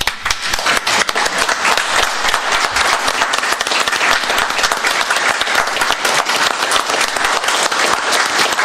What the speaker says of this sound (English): we're going to give y'all one more round of applause